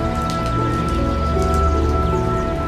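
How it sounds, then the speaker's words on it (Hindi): Heavy rain falls steadily outside a house, a dense, continuous patter of drops with a constant, fairly loud wash and no pauses. "बाहर बारिश पहले से भी तेज हो चुकी थी।"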